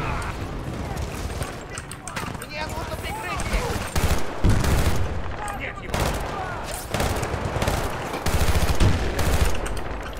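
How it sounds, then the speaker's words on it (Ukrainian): Rapid bursts of gunfire and explosions from Battlefield 2, steady and dense throughout, with no voices. "Хто там з РПГ стріляє?"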